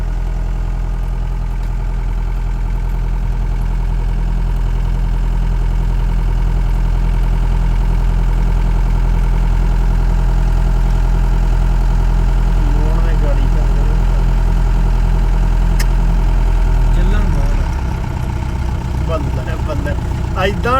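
A tractor engine idles with a steady low rumble, loud and close, in a sand-levelled field, with a brief shift near the end.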